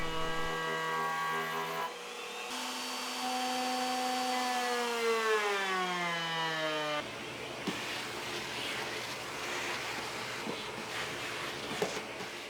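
A CNC machine routes a 5/16 inch round-over along the edge of a guitar body, a loud sustained whine with steady harmonic tones that bend and sweep as the cutter moves, then shifts to rougher broadband cutting noise with faint clicks.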